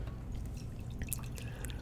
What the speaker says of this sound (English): I'm gonna start pouring this coffee